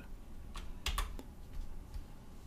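Someone types a short run of key presses on a computer keyboard to name a new desktop folder. The clicks are close and irregular over a quiet room hum.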